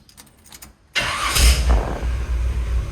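A 1951 Chevy engine cranks and fires, the quiet clicks giving way to a sudden loud catch, a brief rev, and then a steady, smooth idle close by.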